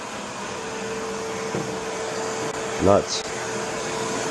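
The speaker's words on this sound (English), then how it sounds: "You can't hear this vacuum cleaner at all, only from the suction." A quiet vacuum cleaner runs steadily with a soft, even suction whoosh, a brief voice cutting in midway over the constant hum.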